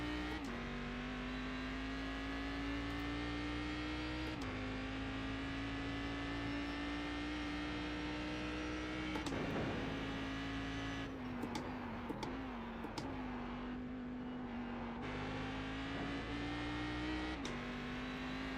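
Race car engine in the iRacing sim game, a sustained loud engine drone with repeated gear-shift dips and revs rising again, steady and close throughout with no talking.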